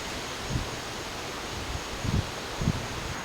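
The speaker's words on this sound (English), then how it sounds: "Wind, can you chill for like 2 seconds?" Wind blows across an outdoor street strewn with fallen autumn leaves, giving a steady broad rushing noise against the microphone with a few soft low gusts and rustles.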